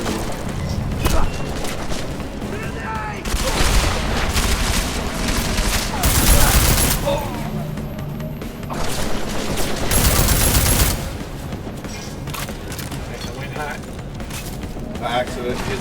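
Bursts of gunfire from the video game Deus Ex: Mankind Divided crack out in dense clusters and rapid volleys, loud and close, separated by short quieter stretches.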